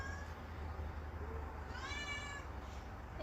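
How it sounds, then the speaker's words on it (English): A house cat meows faintly in the background, a single drawn-out call rising out of a quiet room hum. "And we got a nosy cat in the background"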